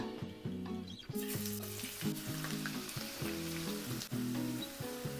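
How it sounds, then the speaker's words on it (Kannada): Onions frying in a little oil in a pan, a steady close sizzle with intermittent stirring scrapes and clinks, no voices. "ಒಂದು ಬಾಂಡೆಯಲ್ಲಿ ಒಂದು ಸ್ವಲ್ಪ ಎಣ್ಣೆ ಹಾಕಿ ಆನಿಯನ್ಸ್ನ ಚೆನ್ನಾಗಿ ಫ್ರೈ ಮಾಡ್ಕೊಂಬಿಡೋಣ"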